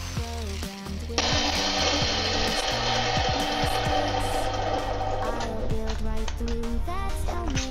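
A power tool grinds down material to fit an electrical outlet into a camper van during a DIY build, starting abruptly after a second and running as a loud, steady whine over a busy workshop background.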